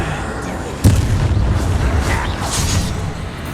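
A Confringo blasting spell bursts in Hogwarts Legacy inside a mine: a sudden deep boom followed by a rumbling, debris-filled roar that lingers over continuous loud game noise.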